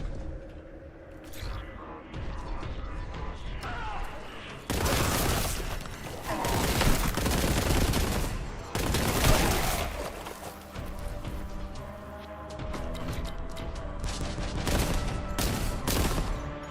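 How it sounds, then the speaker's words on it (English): Constant gunfire fills a Warhammer 40,000: Boltgun fight, loud rapid shots and explosive bursts overlapping in dense clusters, with clanking mechanisms and debris between volleys, no voices. "Who is shooting?"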